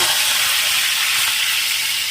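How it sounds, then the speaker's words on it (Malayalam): Curry leaves dropped into well-heated frying oil, ready for chicken to be fried, give a loud, steady, close sizzle that hisses without a break. "ആദ്യം എണ്ണ വെച്ച് എണ്ണ നന്നായിട്ട് തിളച്ച് വന്നിട്ടുണ്ട്. ഇതിലേക്ക് 2 വേപ്പിലിടുക."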